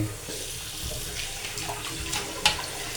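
Water pouring from a tap into a cooking pot, a steady close splashing stream with a few small clanks against the metal, no talk.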